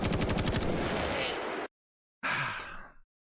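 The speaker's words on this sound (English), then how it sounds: "You're using non-suppressed weapons, and given in real life, suppressors are still pretty loud anyways" Non-suppressed weapons firing in a zombie survival video game, with a loud rapid burst of automatic gunfire, a short silence, then a second shorter burst that fades out.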